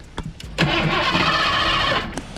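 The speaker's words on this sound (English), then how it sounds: "we're going to start the car" A car with two broken axles, stranded far from home, cranks with a couple of short starter clicks, then catches and roars into a loud sustained rev for about a second and a half before dropping off, close by, with no talking.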